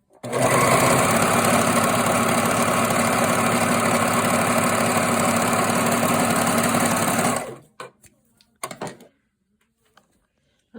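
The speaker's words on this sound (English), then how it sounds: "first I need to sew my new pieces, the side seam." A sewing machine sews the side seam of black joggers being lengthened. It gives a loud, close, continuous whir for about seven seconds, then stops, followed by a few faint clicks and handling sounds.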